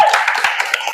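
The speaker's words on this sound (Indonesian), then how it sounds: "Tepuk tangan untuk visual." Audience clapping hands in a school guidance counselling session, a brief burst of close, fairly loud claps with no talk over it.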